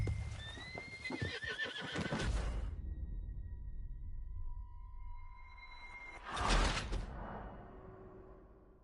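A horse whinnies loudly while hooves clip-clop in Red Dead Redemption 2, followed by a quieter stretch and then a second short neigh.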